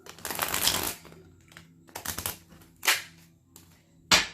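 Tarot cards being shuffled and riffled close by, a rustling burst followed by a few sharp snaps and flicks with quiet gaps between.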